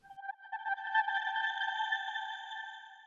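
A simple sine-wave synth tone run through a Sound Toys Crystallizer effect rings out as a shimmering, glassy sustained chord with stacked bright harmonics, fading slowly over a few seconds, clean and isolated.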